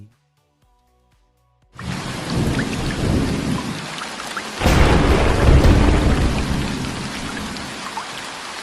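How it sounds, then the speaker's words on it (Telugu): After a brief quiet start, heavy evening rain pours down steadily, and a loud rumble of thunder rolls through midway. "ఒక సాయంత్రం వర్షం దట్టంగా కురుస్తోంది"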